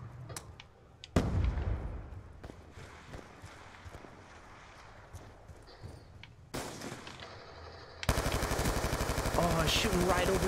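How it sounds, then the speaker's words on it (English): Enemy gunfire in Call of Duty 2 cracks out in scattered shots and a loud sustained burst of rapid fire near the end, mixed with other game battle noise. "I feel like he's shooting at me."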